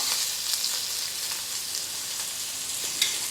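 Steady, bright sizzling of butter melting on a hot blackened steak in a pan, continuous and close, with a few small pops and crackles and no voices.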